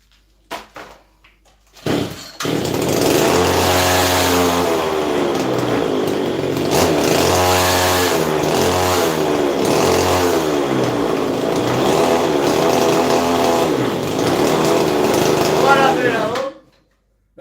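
A chainsaw engine revs loudly with a rising and falling, uneven snarl. It struggles under throttle and cuts out abruptly near the end, and voices seem to talk over the running engine.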